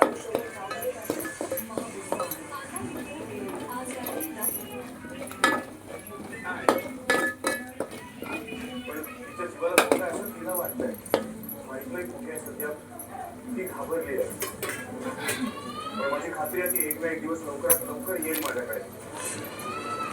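A pan and metal utensils clink and scrape as masala roasts in oil, in scattered sharp knocks and rattles heard beneath ongoing talking.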